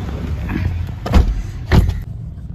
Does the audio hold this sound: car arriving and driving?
yes